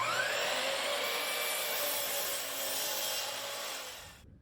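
Table saw cutting through cherry and walnut boards, a loud, steady broadband whine held for about four seconds before the blade drops out abruptly at the end of the cut.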